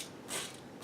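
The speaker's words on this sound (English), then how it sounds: "if you watch the bow machine gun, it's servo operated" A small servo on an RC tank drives the bow machine gun, a quiet brief mechanical whir that swells for a moment and fades, faint and close.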